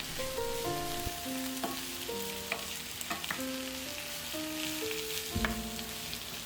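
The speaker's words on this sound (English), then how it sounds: "We're going to cut up our onions, add avocado oil, and cook until they're soft, around 5 minutes." Chopped onions frying in avocado oil in a pan, a steady close sizzle with scattered clinks and scrapes of stirring, and a gentle melody playing underneath.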